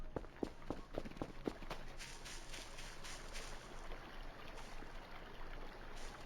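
Footsteps in the video game Voices of the Void, a quick run of loud, evenly spaced steps over the first couple of seconds, then a steady hissing ambient background with no voices.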